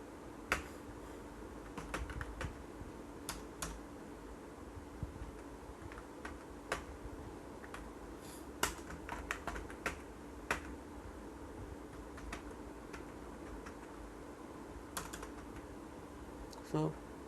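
Keys tapped on a computer keyboard while entering text in Microsoft Word, a quiet, irregular run of light clicks with occasional sharper strikes over a soft room hum.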